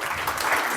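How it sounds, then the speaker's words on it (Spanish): Lecture audience applauding, a dense steady wash of clapping that fills the whole brief moment without letup. "Que se escuchen fuertes aplausos."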